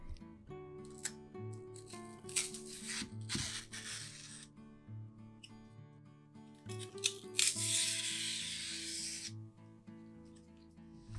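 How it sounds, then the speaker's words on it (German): Thick rhubarb stalks being peeled by hand, giving soft, repeated scraping and rubbing strokes, close and quiet, over steady background music. "Da die Rhabarberstangen hier etwas dicker sind, habe ich die Haut geschält."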